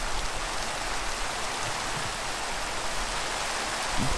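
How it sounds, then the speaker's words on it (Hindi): Heavy rain in the Minecraft video game, a steady dense hiss of downpour filling the whole stretch at an even level, with no voices over it. "बहुत ज़ोरदार बारिश है।"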